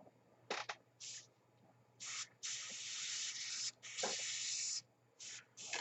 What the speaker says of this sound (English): we'll just start spraying the seat just to prime it.